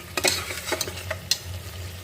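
Spice masala for Bengali-style mutton vindaloo frying and being stirred in a pan: soft sizzling under irregular scrapes and clinks of a spoon against the pan, close and fairly quiet.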